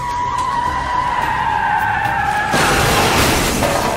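Car skidding and crashing in the Marvel's Daredevil video game: a sustained tire screech runs loud for several seconds, then gives way to a broad, harsh burst of impact noise near the end.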